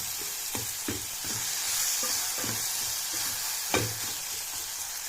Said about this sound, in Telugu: అల్లం వెల్లుల్లి పేస్ట్ పచ్చివాసన పోయేంత వరకు వేగాల